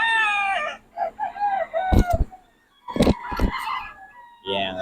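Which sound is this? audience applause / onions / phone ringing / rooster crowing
rooster crowing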